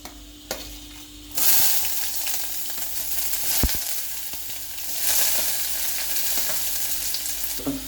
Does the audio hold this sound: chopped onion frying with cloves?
yes